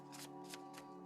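Oracle cards are shuffled in quick, soft riffling bursts, three or four short papery flutters in a row, close and quiet over a steady low hum.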